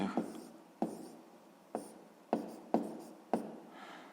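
A pen writes numbers for a sixth-grade fraction exercise on paper, with sharp tapping strokes at an uneven rhythm over faint scratching, close and quiet, with no talking.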